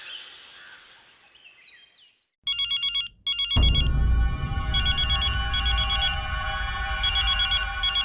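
A phone rings with a bright electronic ringtone in short repeated pulses, starting after a quiet stretch. A loud, dense background of music or noise then rises underneath it in an indoor drama scene.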